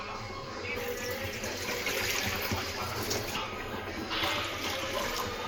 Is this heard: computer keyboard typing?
no